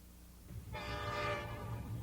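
A train rolls along with low rumbling, then its horn sounds a steady, sustained blast that starts suddenly and stays loud to the end over the rumble.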